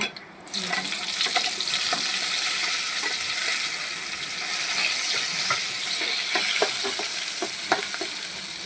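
Cumin seeds and garlic frying in hot oil give a steady, close sizzle that starts abruptly, with scattered light scrapes and taps from stirring and no talking.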